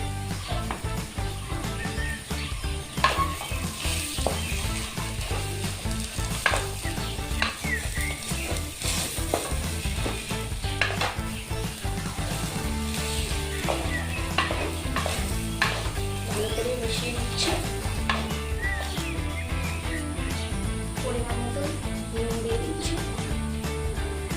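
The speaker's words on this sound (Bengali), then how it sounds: "ভালো করে এটাকে নাড়াচাড়া করে দিতে হবে" Mashed potato stirred with spices and turmeric in a hot frying pan, the filling for crispy potato chops: a continuous close sizzle with frequent scraping stirs, over a low tonal background and no speech.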